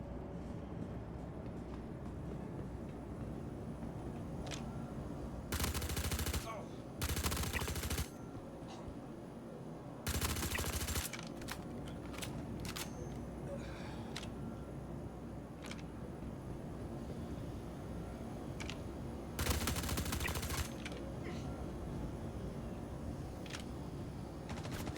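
Gunfire from a compensated gun in the video game Star Citizen, with several short broadband bursts spread over a steady low ambient rumble, no talk.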